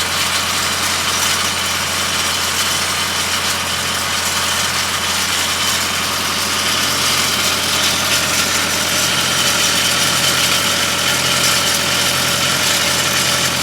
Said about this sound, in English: Guess I better turn the air compressor on.